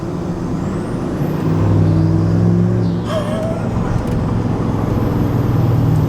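Steady engine drone and road noise from inside a moving tuned pickup truck with a 10-speed transmission, a low rumble that swells slightly in the middle of the drive and holds continuously throughout.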